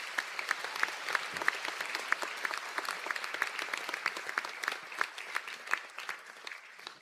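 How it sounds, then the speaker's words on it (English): An audience at a college conferring ceremony in Donegal gives a steady round of applause for graduates, many hands clapping in a dense, even patter that carries on throughout at moderate volume. "Please give them one last round of applause."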